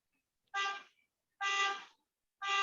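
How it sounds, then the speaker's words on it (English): A car horn honks in a residential neighborhood, three separate blasts about a second apart, each clear and steady, heard alone with no talk. "There's been so much honking in my neighborhood today."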